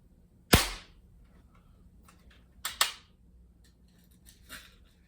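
Crosman 760 or Daisy 880 pump air gun firing pellets: a sharp close crack, then two quick snaps about two seconds later and a fainter pop near the end, over quiet background.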